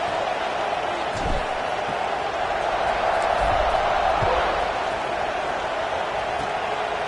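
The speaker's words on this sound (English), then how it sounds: "this crowd is buzzing after that last score" Stadium crowd in a College Football 26 video game, a steady broad roar and murmur filling the whole stretch at even loudness after a score, with occasional faint thumps underneath.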